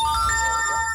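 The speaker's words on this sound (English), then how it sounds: "Excuse the cell phone notification." Cell phone notification tone chiming steadily through one second, a bright electronic ring sustained at close range with no talk.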